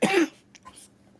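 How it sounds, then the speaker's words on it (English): A man gives one loud, harsh cough up close, followed by a few softer throat sounds that fade quickly into quiet. "Are you ever gonna get rid of that cough?"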